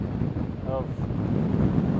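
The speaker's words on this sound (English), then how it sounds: "It's kind of windy." Steady wind buffeting the microphone with a low rumble throughout, a faint tonal whine briefly audible beneath it, outdoors in Mornington, Ireland.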